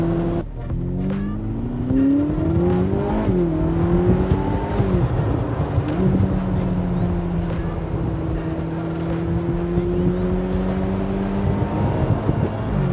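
A Formula 1-derived supercar cruises slowly along back roads, its engine note rising and easing through smooth gear changes, loud and close over continuous road noise, with no one speaking.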